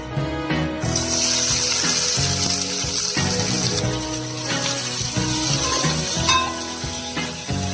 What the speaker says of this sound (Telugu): నెయ్యితో ఫ్రై చేసుకుంటాను ఆనియన్స్.